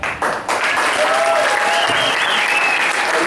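Rock concert audience at a rock and roll camp finale show, applauding and cheering loudly in a steady, continuous wash of clapping and crowd noise.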